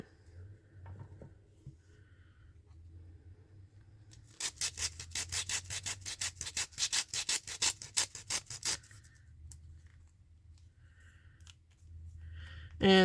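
A small, delicate molded resin piece with an embedded magnet is sanded by hand in a quick run of rhythmic rasping strokes, close and fairly loud, set between quieter handling noises.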